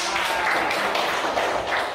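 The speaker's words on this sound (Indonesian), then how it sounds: "Beri tepuk tangan untuk Mbak Mela" A classroom of students claps together for a classmate's correct answer during a lesson, giving dense, steady clapping that fills the whole two seconds at close range with no clear speech over it.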